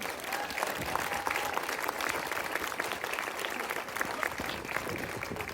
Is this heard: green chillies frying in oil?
no